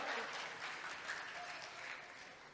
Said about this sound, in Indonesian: Kasih tepuk tangan dulu dong.